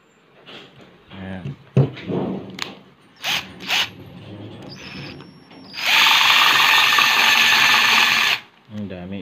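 Aluminum-and-plastic cover being screwed back onto a combi blind's chain mechanism, heard as a sustained whirring, ratcheting burst of a few seconds after scattered handling clicks and talk.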